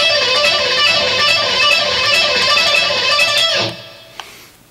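An electric guitar lick played fast in a rock style, a rapid, bright run of sustained distorted notes that rings loudly for several seconds before cutting off into a fading tail and a small click, with no talking.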